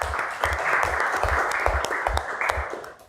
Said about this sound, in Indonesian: Kasih tepuk tangan dulu untuk semuanya.